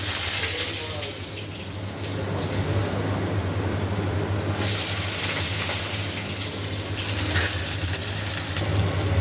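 Sliced potatoes hit hot oil in a pan and sizzle steadily, a broad hissing crackle with a constant low hum beneath, brief stirring noises mid-way, recorded close in a home kitchen.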